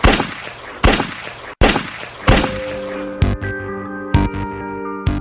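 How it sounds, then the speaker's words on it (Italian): Five sharp pistol shots crack out in sequence, loud and close, each with a brief echoing tail, the later ones ringing with a metallic tone. "Cinque colpi di pistola fendono l'aria."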